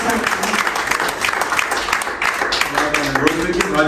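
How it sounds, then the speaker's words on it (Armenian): An audience applauding at a poetry recitation event, dense sustained clapping from many hands with a voice speaking over it throughout. "Եկեք ծափահարենք Արմենին և ընդհանրապես մարդ տեսակ։"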